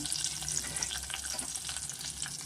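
Cashews and green chillies fry in a pan for khara rava pongal, giving a brisk, close, continuous sizzle with light crackling pops throughout.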